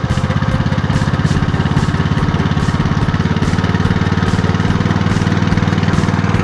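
Sand suction pump engine, an Alkon/Robin type, running at half throttle: a loud, steady, rapidly pulsing mechanical drone close by, continuous throughout with no voices.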